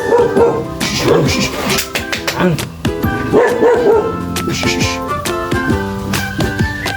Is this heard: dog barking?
yes